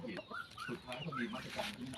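Chickens being fed at a rural farmstead cluck and call in a busy, overlapping cluster of short notes, moderately faint, with a person talking intermittently among them.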